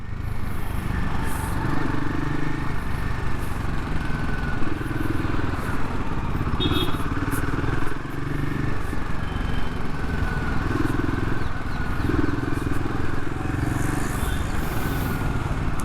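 A Royal Enfield Himalayan 450 motorcycle on a test ride, ridden standing up in second gear, its engine droning steadily and close with wind rush and slight rises and falls in revs.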